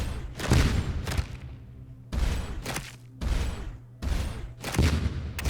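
Spaceship plasma cannons firing in a video game, a series of loud, booming, crackling bursts in four or five close clusters with short gaps between them, no talking.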